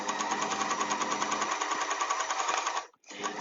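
An overlocker runs steadily, stitching a wide 9mm seam at full cutting width. The close mechanical hum continues for almost three seconds, then stops abruptly and briefly restarts.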